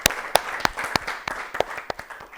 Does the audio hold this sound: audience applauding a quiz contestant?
yes